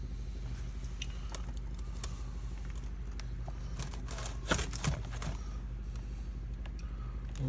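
A thrift-store Holmes Blizzard fan with a small GE motor, partly seized, runs with a steady low hum and faint rattles and clicks. A couple of louder knocks come near the middle.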